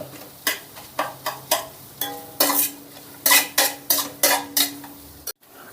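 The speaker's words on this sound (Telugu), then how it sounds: "ఉల్లిపాయ క్యారెట్ ముక్కలు పచ్చిమిర్చి ముక్కలు ఇవన్నీ మెత్తబడేంతవరకు వేపుకున్నాం" Onion, carrot and green chili pieces stirred in a pan while frying for egg fried rice, a steady series of close, repeated scraping stir strokes with light sizzle underneath, ending abruptly.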